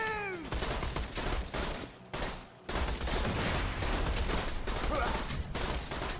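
Rapid bursts of automatic gunfire from Borderlands 2 in the Lynchwood area fill almost the whole stretch, loud and dense, broken by a couple of brief pauses.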